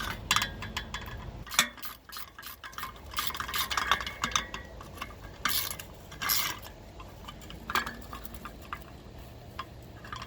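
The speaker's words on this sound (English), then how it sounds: "Put 3 bolts back up and tighten them, not hard." Bolts on a fan clutch from a 1992 Mercedes-Benz W140 diesel are tightened by hand, giving close, sharp metallic clicks and ratcheting ticks in irregular bursts with short pauses, without any talk.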